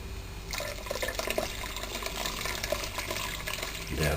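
Water poured steadily into a beer mash during sparging to rinse out sugars for a strong ale, a continuous close splashing and trickling that runs the whole time without speech.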